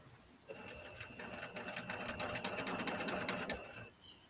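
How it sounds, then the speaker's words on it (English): A sewing machine stitches foam for a bag, starting after a brief quiet moment and running in a fast, steady mechanical patter for about three seconds before stopping, close and fairly quiet. "this foam was a pain in the neck to sew. Well, let me get it started and then we'll see."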